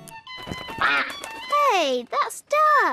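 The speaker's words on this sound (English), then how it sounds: "Hey, that's ducks." Cartoon ducks quacking in an animated castle scene, a few short nasal, voice-like calls rising and falling in quick bursts, close and fairly loud, separated by brief gaps.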